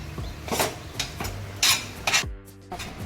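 Egg ghotala being mixed in a pan, with close, repeated scraping and clinking of a utensil against metal in uneven strokes and no talking.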